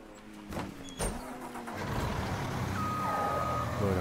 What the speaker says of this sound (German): So, dann fahren wir hier mal kurz zurück.